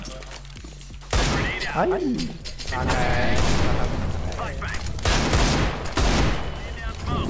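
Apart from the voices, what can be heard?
gunshots in video game Counter-Strike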